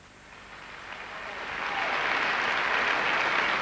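Applause from the Eurovision 1990 audience swells over a few seconds into steady, dense clapping.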